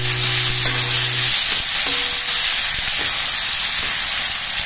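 Tomato slices fry in hot oil with crisped curry leaves and dried chilies for a simple prawn curry, a loud, steady, close sizzle with faint tonal hum running under it.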